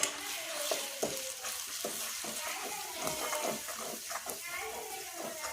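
Spices stirred into pav bhaji vegetables frying in a pan, giving a steady close sizzle broken by repeated scraping stir strokes throughout.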